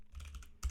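Quick, quiet keystrokes on a computer keyboard while data is entered into a build planner, a short run of soft clicks ending in a slightly louder tap.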